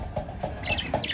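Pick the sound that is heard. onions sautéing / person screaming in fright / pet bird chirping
pet bird chirping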